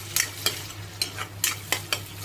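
A spoon stirs onion, tomato and moong dal sabzi in a sizzling pan, giving sharp scraping strokes about every half second over a soft, steady frying hiss.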